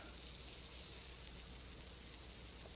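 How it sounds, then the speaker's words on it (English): A steady, faint fizzing hiss, like tiny bubbles popping, from a makeup repair mousse, runs evenly throughout without any voices. "can you guys hear that sizzle?"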